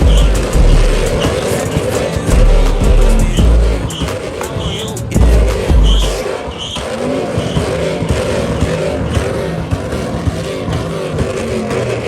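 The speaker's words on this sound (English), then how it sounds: "out here doing the exhaust competition" At an outdoor car show exhaust competition, a loud engine roars and revs through its exhaust with heavy rumbling bursts and sharp peaks, mixed with crowd noise and distorted, booming low end throughout.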